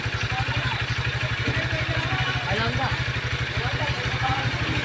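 A motorcycle engine runs steadily in a fast, even low putter throughout, close and fairly loud, with faint background chatter and clatter over it.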